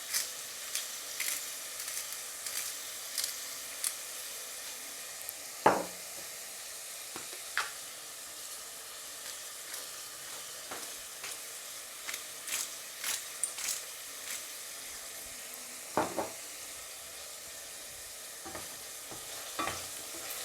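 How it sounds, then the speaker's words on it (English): Pot-cooked potato dinner is stirred while frying, with a low steady sizzle under repeated sharp spoon scrapes and knocks against the pot, close by and irregularly spaced. "Give it a quick stir."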